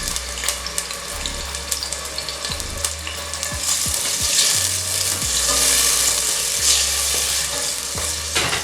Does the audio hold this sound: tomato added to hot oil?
yes